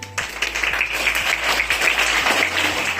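Applause in a school hall during a Hindi Diwas celebration as performers are welcomed onto the stage, starting abruptly and continuing as a dense burst of clapping for about three seconds.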